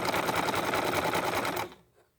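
A sewing machine zigzag-stitches over rope with sari silk ribbon tucked in while making a rope bowl, a steady fast rattling run that stops abruptly near the end.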